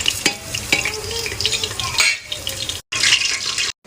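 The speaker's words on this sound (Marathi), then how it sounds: "आता मी तेलामध्ये खडे मसाले टाकते." Whole spices crackle and sizzle in hot oil in a pot for chicken biryani, with frequent close metal clinks of a spoon being stirred. The sound cuts out briefly twice. No one speaks.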